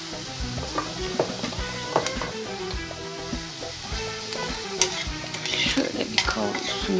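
Black pepper and chili flakes fry in a pan with tomato and pepper for kısır, a steady close sizzle broken by frequent stirring scrapes and light clinks of a utensil against the pan.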